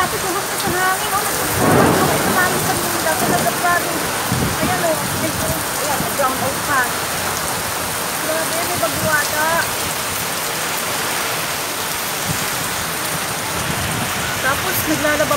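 Heavy rain pours down steadily in a dense roar, with gusting wind and rumbles mixed in, loud and continuous throughout.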